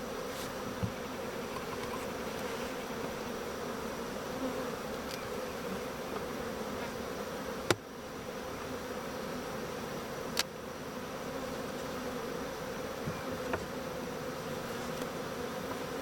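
Honey bees buzz steadily in an open hive disturbed the day before by a bottom-board change, a dense, continuous drone that holds level throughout with a few faint knocks and clicks.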